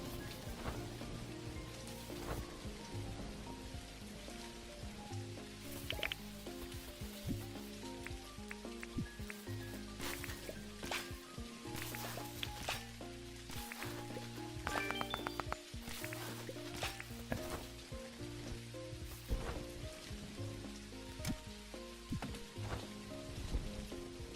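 Continuous thunderstorm rain in the game Dinkum patters steadily over a gentle, repeating musical tune, with occasional brief clicks and taps throughout.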